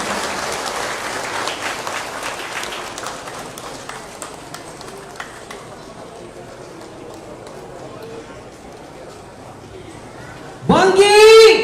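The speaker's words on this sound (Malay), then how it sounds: "Beri tepukan gemuruh kepada Yang Berhormat, Yang Amat Berhormat Ketua Menteri yang kita kasihi." Crowd applause for the Chief Minister at a public community gathering in Banggi, Sabah, a broad, fairly faint patter of clapping that gradually thins, ending with a sudden loud burst of voices and noise.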